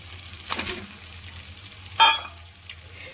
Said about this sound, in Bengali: এবার আমি যে ভেজে রাখা ডিমগুলো ছিল সেই ডিমগুলো এর মধ্যে দিয়ে দেব।